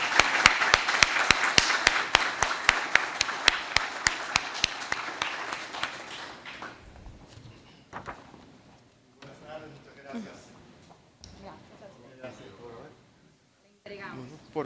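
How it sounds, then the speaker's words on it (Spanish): Warm applause from a gathered audience welcoming the facilitator, Raúl Hernández, at an event: dense, steady clapping for about six seconds that then fades out, followed by scattered handling sounds and faint voices. "un caluroso aplauso"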